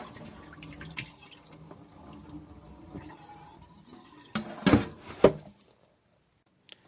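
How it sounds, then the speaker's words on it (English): Oxtail meat rinsed under running tap water in a kitchen sink, a soft steady trickle followed by a few louder splashes, then the water stops. "After you're done rinsing the meat off real good,"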